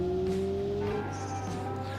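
Steady engine drone of a custom-built car driving in the BeamNG video game, a low sustained tone with a slight pitch rise and faint tire noise, fairly quiet throughout with no talking.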